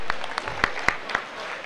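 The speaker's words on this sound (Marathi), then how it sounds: "एकदा जोरदार टाळ्या" Applause at a prize ceremony for a village cricket tournament, the Shri Siddhanath Chashak 2023 in Bagalwadi, with a scattered crowd clapping and several sharp, distinct claps standing out over the wash of hands.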